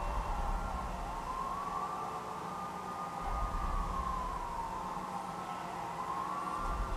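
A wailing siren-like tone rises and falls slowly and steadily over a noisy, hissy background, fairly loud and without any talking.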